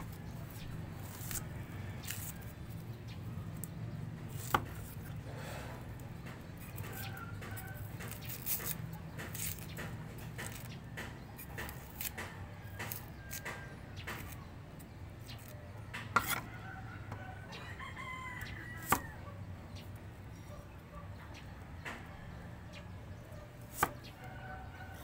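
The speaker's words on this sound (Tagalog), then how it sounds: "So, maghihiwa muna tayo ng sibuyas." A knife chops onion on a wooden cutting board while Filipino sinigang is being made, producing steady close taps across a long stretch, with a few sharper knocks and quiet room noise underneath.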